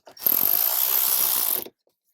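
A power driver runs continuously for about a second and a half, whirring loudly and close, as screws go into a speaker mounting plate in a 2018-up Jeep Wrangler JL.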